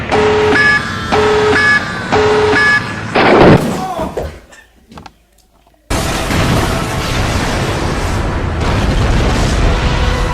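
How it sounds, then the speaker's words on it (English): A huge tactical nuke blast erupts as a loud, sudden boom, then sinks into a near-silent gap and returns as a steady, heavy roaring rumble. Tonal beeps come first, and no one speaks. "Tactical nuke incoming!"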